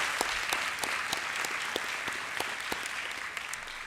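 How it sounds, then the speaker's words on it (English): Moderate applause at a school board meeting for an absent state champion, a few seconds of steady clapping with some sharper individual claps standing out, fairly distant and even. "let's give him a round of applause"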